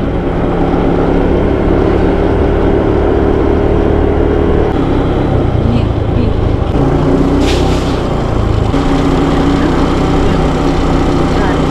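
A Honda motor scooter ridden through the countryside around Ninh Binh gives a loud, steady engine drone with constant wind rush, close and continuous throughout.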